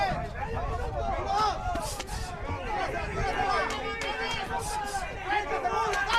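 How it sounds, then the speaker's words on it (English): Crowd at a boxing title fight between Carlos López and Breenan Macias roars and chatters continuously, a dense wall of excited voices with occasional louder surges and shouts, fairly close and sustained throughout. "You hear the crowd getting into it, man."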